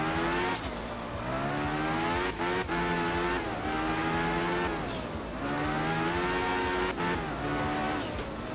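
Rally car engines in the racing game Art of Rally, five-cylinder, turbo and inline-six, roar and rev loudly, with repeated rising pitches broken by sharp gear shifts and brief tyre squeals.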